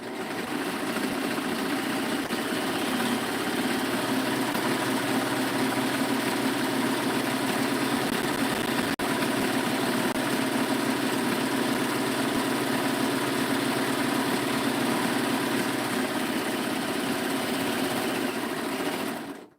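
A serger stitches a knit garment in one steady, unbroken whirring drone, close and even in loudness throughout, with no voices.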